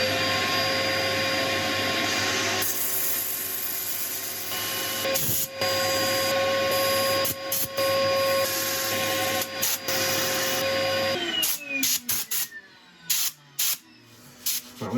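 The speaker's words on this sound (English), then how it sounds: "I'm going to set up for sanding" Yellowheart wood spinning on a lathe while being sanded, a steady loud whirring drone with a high hiss and faint tonal whine throughout, breaking into scattered knocks and bumps near the end.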